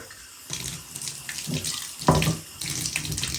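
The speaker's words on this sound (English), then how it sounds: "We're going to wet down the boots, and then we're going to scrub." Tap water running while leather boots are wet down before scrubbing with dish soap: a steady close splashing stream that surges and spatters as the water strikes the boots, with no talk.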